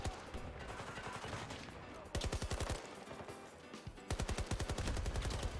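Rapid bursts of automatic gunfire in a shooter video game, loud and close, arriving in several dense volleys separated by short pauses over a continuous background of battle noise.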